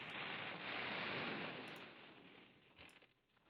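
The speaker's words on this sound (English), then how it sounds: "The waves are higher." An ocean-wave sound effect played during a table reading swells into a broad, close roar of surf, then slowly recedes and fades toward the end, heard alone without voices.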